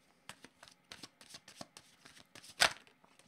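A deck of oracle cards is shuffled close by, giving a series of soft, papery riffles and flutters that end in one louder slap of cards.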